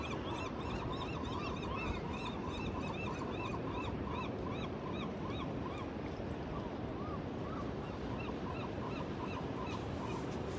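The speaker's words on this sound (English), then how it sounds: "Let you guys see the birds that are making a racket." Flock of birds, likely geese, honking and squawking loudly and continuously at a shoreline during a tide-pool outing, a dense overlapping racket over a background rush of water and surf.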